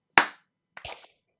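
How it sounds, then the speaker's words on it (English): An audience claps together once at a school music department senior recognition and awards event: one sharp, loud group clap, followed by a softer, scattered burst of a few late claps trailing after. "So it's 1, 2, 3, and clap."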